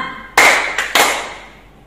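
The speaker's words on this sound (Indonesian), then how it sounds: "Tepuk siang malam" Sharp hand claps in a Sunday school clap game, three close strikes with the first loudest, each ringing briefly in a reverberant room before fading.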